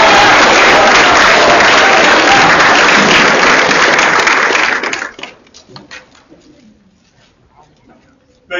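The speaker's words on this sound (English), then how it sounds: "Big round of applause," An audience applauds after a middle school production of the Snow White Variety Show. Loud, dense clapping carries on for about five seconds, then dies away into scattered claps and quiet room noise.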